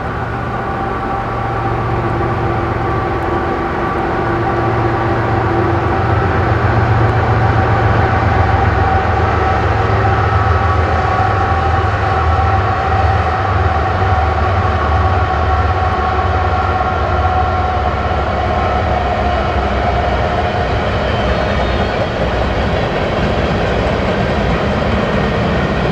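A Union Pacific freight train rolls past steadily on the Spokane Subdivision in snow, a loud continuous rumble of wheels and cars with a low engine drone throughout, no voices.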